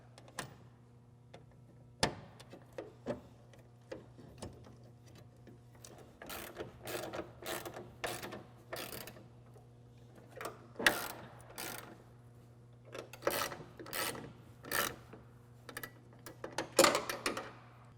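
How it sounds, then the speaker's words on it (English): Bolts being tightened with a ratchet on bed channel supports of a 2005-2023 Toyota Tacoma, heard as bursts of rapid ratchet clicking separated by pauses over a low steady hum, fairly close, without speech. "it's very important that we go ahead and tighten down all these bolts before tightening down our 2 factory bed bolts"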